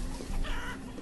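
Chickens clucking in the village-building game Banished, a short burst of close, moderately loud hen clucks and squawks over a steady low hum of game ambience.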